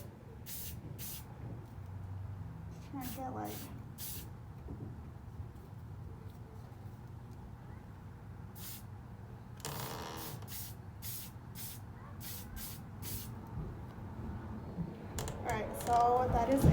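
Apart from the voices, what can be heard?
spray can spraying lacquer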